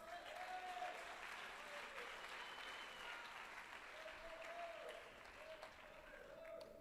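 A church congregation applauds together at a service, a sustained wash of clapping that runs without a break, with a sung or spoken voice faintly above it.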